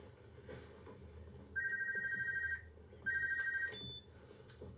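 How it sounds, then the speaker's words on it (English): A telephone rings in a TV episode, two distinct electronic ring bursts about a second long each with a short gap between, over quiet background and no talking. "Is that his phone?"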